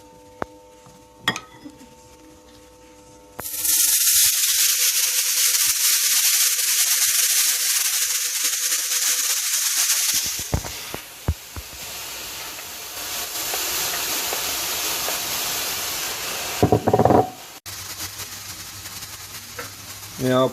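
Loud hissing sizzle of spinach frying in a pan for spanakopita filling, starting abruptly after a few quiet seconds, with clatter and stirring noises throughout.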